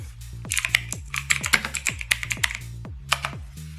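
Fingers type on a computer keyboard, close and clear, with a quick, irregular run of crisp clicking keystrokes and brief pauses, no talking.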